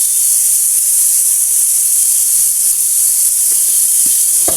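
Sayote sizzles loudly in a hot pan, a dense continuous hiss like steam that fills the whole stretch, with a few faint clicks of a utensil near the end.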